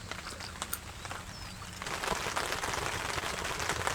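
Rain falls steadily on a tent at a campsite, a soft hiss that grows denser about halfway through, with a few isolated drips earlier on and no talking.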